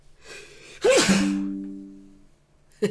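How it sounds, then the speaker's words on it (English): A single loud sneeze with a sharp inhaled gasp before it and a tonal, voiced release that trails off, followed by a brief vocal sound at the end. "Oh, sneezing."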